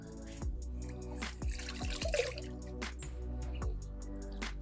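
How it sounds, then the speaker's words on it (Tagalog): Water drips and splashes from a wrung-out wet microfiber towel onto a car's glass or paint, several distinct close drops falling irregularly over a soft steady background. "pigaan natin ng tubig using this wet microfiber towel"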